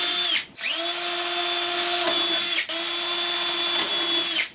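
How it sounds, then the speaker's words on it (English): A power drill fitted with a 1/8 inch bit drills into a wall-mounted cabinet: three steady high-pitched whines, each starting after a short pause, close and loud with no talk. "1/8 inch drill bit. Just gonna pick it up a bit so I don't drill in the back of the cabinet."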